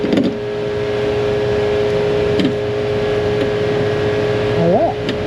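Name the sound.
car power window motor running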